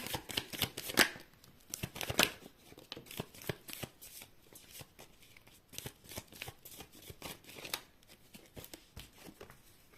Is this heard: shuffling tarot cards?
yes